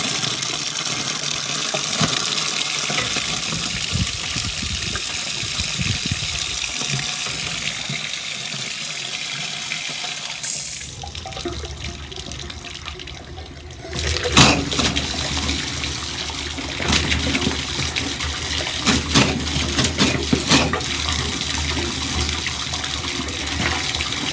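Water rushes steadily through newly installed PEX plumbing and a new three-stage water filter system as air is purged from the lines. The flow hisses loud and close, shifting in tone and sputtering about midway before resuming as a constant gush.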